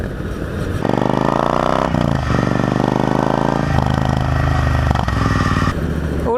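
A Triumph Bobber motorcycle's exhaust opens up as the throttle is twisted, a loud, steady engine drone climbing and holding through several pulls, heard close with wind in the background.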